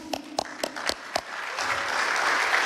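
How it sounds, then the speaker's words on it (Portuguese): Applause for a minister at a public gathering, opening with a few distinct, evenly spaced claps before swelling into a broad, sustained crowd clapping that grows louder toward the end. "Palmas para o ministro Fux."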